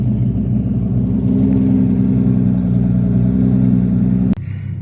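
A steady low rumble from an exotic car's engine runs loud and close at an even idle, ending in a sharp click followed by a quieter hum.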